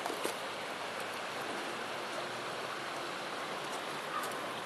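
Water spills over a small waterfall at a beaver dam near Trinidad, Colorado, making a soft, even, continuous rush heard from a short distance with no voices.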